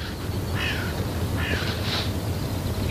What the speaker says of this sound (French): Écoutez ces oiseaux, écoutez.